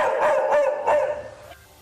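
A small dog barks three times in quick succession, loud and close, with a fading yelp at the end and no talking.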